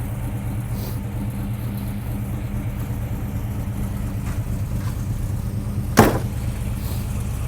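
A 1971 AMC Javelin SST V8 fitted with a new Holley carburetor idles steadily with a low, even rumble, broken by one sharp click or knock near the end.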